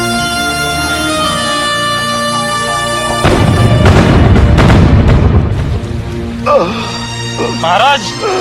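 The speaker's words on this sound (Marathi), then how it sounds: "हा, तोफांचे आवाज झाले." Loud booming cannon fire effect in a school cultural event play, a sustained rumbling burst of blasts after a tonal musical passage, with voices and music around it.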